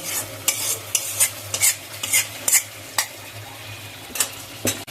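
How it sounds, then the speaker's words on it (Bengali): Broiler chicken sizzles in a pan while ginger tempering is stirred in, a steady frying hiss broken by repeated scraping clinks of a spoon against the pot, close and alone. "এবারে মাংসের মধ্যে আদার এই ফোড়নটা আমি দিয়ে দিব।"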